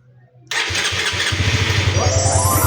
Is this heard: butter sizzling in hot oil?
no